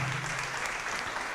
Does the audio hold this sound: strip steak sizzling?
no